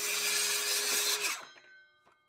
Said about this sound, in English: Now I've got my saw set to 45 degrees. And then I can just make the cut.